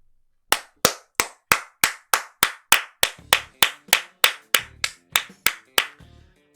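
A single person's hands clapping seventeen times in an even, unhurried rhythm, each clap sharp, loud and close, with no voices.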